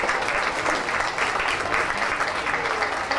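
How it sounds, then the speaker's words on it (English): Applause from an audience at a county fair baby show, a dense and steady patter of clapping that lasts a few seconds with no voices over it. "I think we need a big round of applause for the Rock City EHU"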